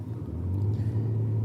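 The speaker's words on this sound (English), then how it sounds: "You might hear a boat and you might also hear a little bit of traffic" Road traffic near the River Thames in London, a low steady rumble of a passing car engine at moderate distance that swells slightly and holds without any voices.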